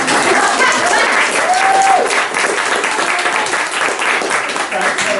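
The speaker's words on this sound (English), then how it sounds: "can I have a applause, ladies and gentlemen?" Ladies and gentlemen in an audience applaud, a loud, even burst of many hands clapping with faint voices mixed in, slightly easing toward the end.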